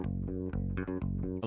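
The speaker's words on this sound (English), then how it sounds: "Bass guitar is played with fingers and is masterfully played." A bass guitar plucked with the fingers plays a steady run of warm, low notes, each with a soft attack, close and even in level.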